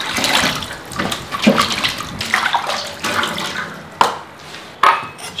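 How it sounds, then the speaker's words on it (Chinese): Crucian carp are washed by hand under running tap water, the stream splashing unevenly with handling noises and a couple of sharp knocks against the sink near the end. "现在来把鲫鱼洗一下。"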